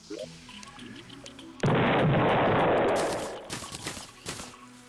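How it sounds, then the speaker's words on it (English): A loud burst of video game explosion effects, a dense roaring blast lasting over a second before fading into scattered crackling pops, with quieter game sounds before and after. "That's the whole point of the explosions"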